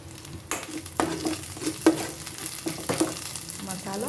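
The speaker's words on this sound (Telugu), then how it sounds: "అల్లం వెల్లుల్లి పేస్ట్ వేసి బాగా కలుపుకోండి" Ginger garlic paste fries in a pan, a continuous close sizzle broken by several scraping stirs at roughly one-second intervals, with no talking.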